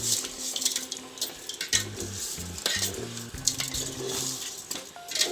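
A sweet wheat flour mixture is stirred and mixed by hand in a pot after salt is added. It makes busy, close scraping and clinking sounds with wet sloshing, irregular but continuous throughout.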